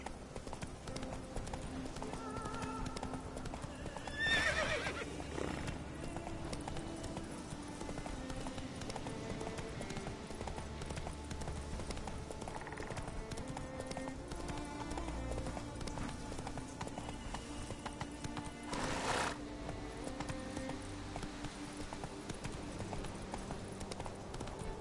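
A horse in a PS4 video game gallops with a continuous, driving clip-clop of hooves against game ambience and music, with a couple of brief louder bursts along the way.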